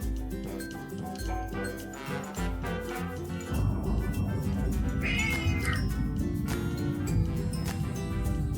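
A tuxedo cat meows briefly over loud, steady background music that dominates throughout.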